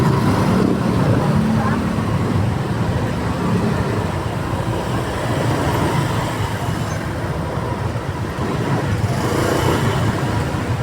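A truck rumbling along a road with steady, continuous low engine and traffic noise throughout, close by and fairly loud, with faint voices mixed in.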